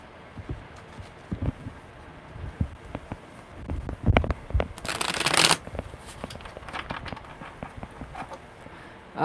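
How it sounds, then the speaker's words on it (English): Tarot cards shuffled by hand in a series of quick, close riffles and taps, building to a loud dense flurry midway before easing off, with no talking. "All right, one more good shuffle."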